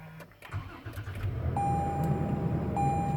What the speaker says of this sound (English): let me go ahead and press the brake and press the engine start and stop button.